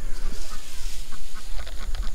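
Ducks, geese and chickens calling on a farm near a water hose and tanks, a loud, steady mix of quacks and honks with clucking, close by and overlapping continuously.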